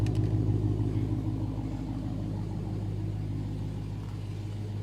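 Dodge Challenger Hellcat engine idling steadily in a deep, low rumble, close and loud, with no talk over it for the whole stretch.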